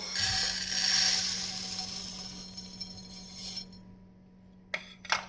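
Roasted black gram lentils poured onto a plate, a dense rattling rush of small dry grains that gradually thins out, followed by a couple of sharp clinks near the end.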